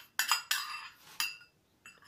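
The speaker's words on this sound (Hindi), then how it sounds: "और इसे अच्छे से मिक्स कर देंगे पहले।" Semolina and curd are stirred together in a bowl for suji pakode, producing four or five sharp metallic clinks of a spoon against the bowl, close and separated by short pauses.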